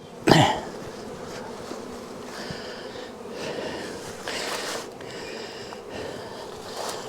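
Faint, steady buzzing of honey bees around a hive with drone comb, with soft rustling and a brief sharp clatter at the start.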